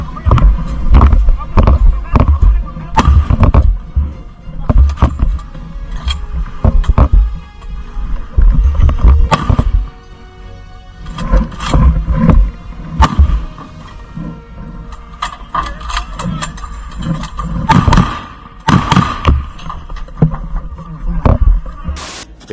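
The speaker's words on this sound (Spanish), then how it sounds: "El sonido de proyectiles de alto calibre es una marca registrada de este tipo de confrontaciones." High-calibre rifles fire during an armed clash between Mexican army troops and CJNG cartel gunmen in Ciudad Mier. Loud bursts and scattered single shots, some near and some farther off, crack repeatedly while voices talk over them.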